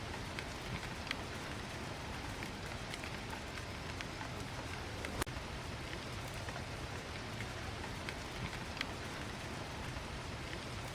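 Steady rain drums against the windows of Baker Street lodgings as a dramatized audiobook effect, a dense continuous patter with a few sharper drops and one louder tap near the middle, heard alone.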